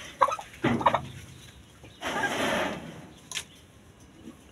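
A turkey hen calls in short bursts of clucks and a longer raspy call, moderately close in a quiet setting with no talk.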